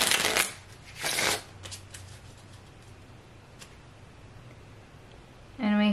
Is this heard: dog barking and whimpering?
no